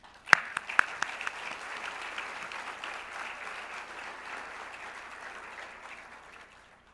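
An audience at a Korea–US alliance conference and gala dinner applauds steadily, a few sharp claps up front before a soft, even wash of clapping that slowly fades, moderately distant.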